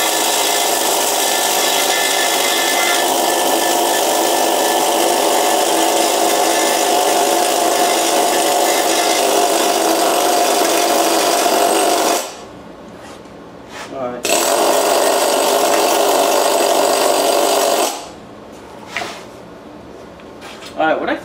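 A power wire wheel scours paint off a metal part from an Alamo hit and miss engine under restoration, a loud steady grinding rasp that runs for about twelve seconds, stops briefly, resumes, then cuts out near the end.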